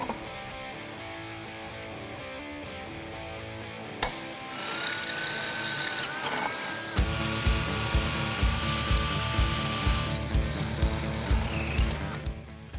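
A hand ratchet clicks in a fast, even rhythm while bolting a transfer case to the transmission of a DJ5 Jeep, preceded by clattering and rustling of metal parts in a garage.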